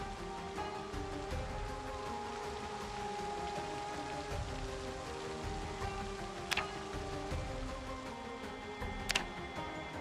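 Relentless rain in Project Zomboid patters steadily on surfaces in a dense, even hiss, with a faint tonal game hum beneath and two brief sharp ticks, no speech.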